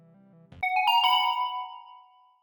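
A phone ringtone sounds unanswered, starting after a low hum with a bright chime-like burst of tones that rings on and slowly fades away, heard alone with no voices.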